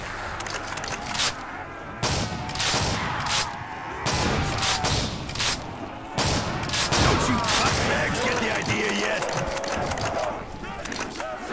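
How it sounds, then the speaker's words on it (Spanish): A shotgun fires repeatedly in a video game battle, loud blasts landing every second or two amid clatter and impacts, with someone talking over much of the action. "Y le estoy dando con una escopeta, que es lo peor de todo."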